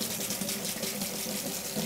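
Hot water runs steadily from a kitchen tap while steak and sweet potatoes cook, making a continuous close hiss and splash with no talk over it.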